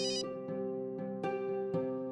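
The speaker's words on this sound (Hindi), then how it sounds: "विजेंद्र का फोन।" Phone ringtone in a home, a repeating electronic melody of short bright tones pulsing at a regular rhythm, fairly clear and alone with no talk over it.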